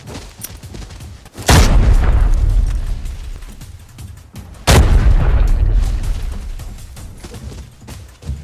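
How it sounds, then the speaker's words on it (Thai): Two loud, booming grenade explosions a few seconds apart in the video game Arena Breakout, each a sharp blast followed by a long rumbling decay, with game-like effects around them. "เราเล่นระเบิดกันก่อนนะ"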